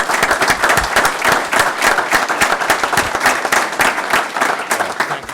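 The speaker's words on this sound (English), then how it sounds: "Let's give them all a round of applause, please." An audience at a school district education committee meeting claps steadily, a dense continuous round of applause from many hands in a room, with no one speaking over it.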